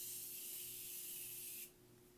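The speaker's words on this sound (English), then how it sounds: "For setting spray, I'm going to use the Morphe Continuous Spray." Morphe Continuous setting spray mists steadily onto a face in one long, close hiss that lasts about one and a half seconds and then stops sharply, leaving quiet room tone.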